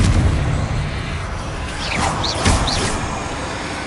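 Explosive spells from Hogwarts Legacy burst over a steady low rumble, with a few bright whooshing magic swishes in the middle of the sequence and no talk.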